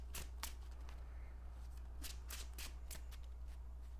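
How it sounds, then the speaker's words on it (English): Playing cards riffled and shuffled for a Marvel Champions card game, a run of crisp papery bursts and flutters repeating through the stretch over a steady low hum, close and clear with no talking. "We shuffle up here."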